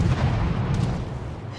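Heavy ship cannons boom in a naval video game as a sinking vessel fires a last volley, a dense, loud rumbling barrage filling the whole moment without pause.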